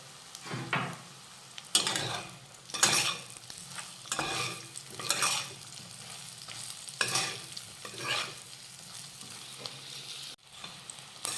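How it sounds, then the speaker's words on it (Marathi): Fried brinjal pieces are stirred with salt in an oily pan, giving repeated scraping, stirring strokes about once a second over a steady background sizzle. "तर आता इथे आपण तेलावर वांगी व्यवस्थित परतून घेतलेली आहेत तर आता यावर घालूयात चवीनुसार मीठ मिक्स करून घेऊयात"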